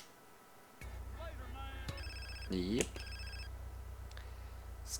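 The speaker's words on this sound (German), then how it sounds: "Jetzt läutet wahrscheinlich gerade mein neumodisches Telefon wieder" A mobile phone rings in GTA San Andreas, several bright, repeating electronic ring tones sounding over steady game background noise, with someone speaking briefly around them.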